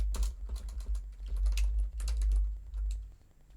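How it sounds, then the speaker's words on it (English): Rapid typing on a computer keyboard while writing Python code, with irregular clicking keystrokes coming in quick bursts, fairly close and clear against a low background hum. "We can just type it out again."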